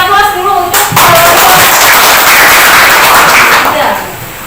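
Applause from a classroom of students, a dense burst of many hands clapping that starts abruptly after a brief pause and carries on steadily for several seconds before tapering off.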